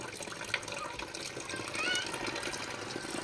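A well pump draws water up, splashing and gushing into a container, moderately loud with the flow strengthening partway through.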